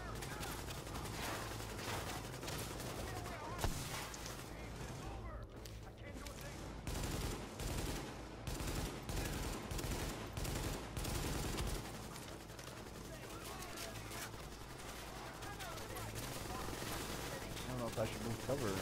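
Enemy light machine gun fire in the video game The Division, with sustained bursts of rapid, heavy gunfire continuing almost throughout. A voice talks over the loud, dense shooting.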